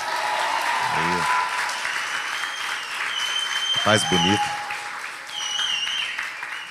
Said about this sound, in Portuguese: Gente, dá uma salva de palmas que daí ele vem.